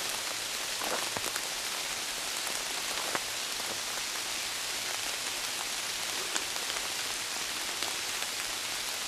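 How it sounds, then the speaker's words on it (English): Steady rain falls in the woods, a dense hiss of drops pattering on leaves and ground with scattered close, sharper drips, continuous and unbroken with no voices. "It's been raining all day long."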